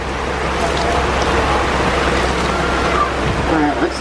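Steady rain falls as a constant, dense hiss at an outdoor animal park, continuous and even throughout with no pauses.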